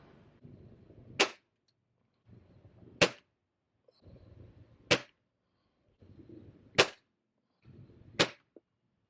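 A Ruger Mark IV pistol firing Crosman Premier hollow point pellets at a target about 10 yards away: five sharp, evenly spaced shots, each preceded by a soft rustle of handling, with quiet pauses between.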